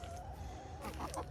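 Hens clucking and murmuring close by, a few brighter squawks near the end over a steady low background hum.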